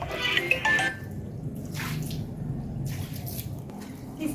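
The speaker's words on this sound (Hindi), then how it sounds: "तो इस जगह को धो लेती हूँ।" Water splashing and running while a floor area is washed down indoors, a steady close wash of pouring and dripping with a brief brighter splash near the start, no speech.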